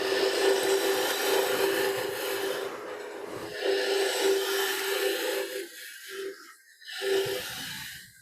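A wood lathe spins at 1200 RPM as a gouge flattens the base of a garden-wood candlestick, giving a steady scraping, rasping hiss that turns into broken, intermittent cuts toward the end, close and fairly loud.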